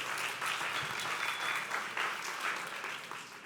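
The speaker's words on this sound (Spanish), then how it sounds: "Un aplauso, por favor, al actor." A church congregation applauds an actor after a sermon skit, a steady, even wash of clapping from a large crowd, heard at a distance and fairly faint, with no talking over it.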